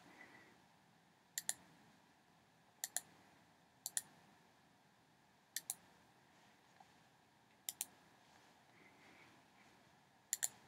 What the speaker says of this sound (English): I'm just going to click in some areas and just do your best